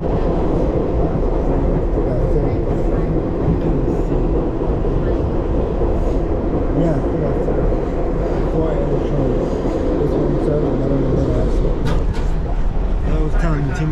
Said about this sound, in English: This is the express train.